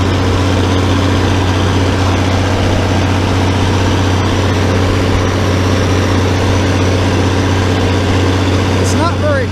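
A Farmall 806 tractor engine pulls steadily under load while mowing thick hay, a loud, continuous low drone with mechanical rattle, a voice faintly present beneath it.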